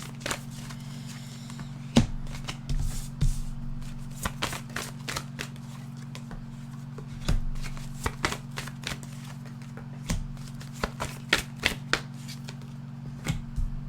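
Oracle cards are shuffled by hand for a five-card cross spread. Soft, repeated riffling and flicking clicks come in irregular bursts over a low steady hum, with no one speaking.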